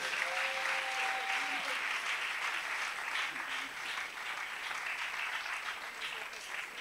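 A church congregation applauds steadily to acclaim the Lord, the dense clapping sustained and even throughout, heard at moderate level with a faint tone briefly audible near the start.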